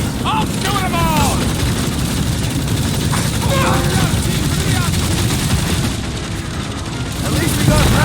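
Sustained gunfire and explosive bursts in the Guardians of the Galaxy video game, dense and loud throughout with brief voice calls and game effects layered over the shooting.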